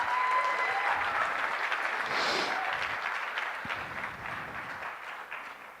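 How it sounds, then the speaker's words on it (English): Audience applause at an investment summit for a startup, a steady wash of many clapping hands in a large hall with a brief cheer, gradually tapering off toward the end. "So let's give a big round of applause to ShopUp."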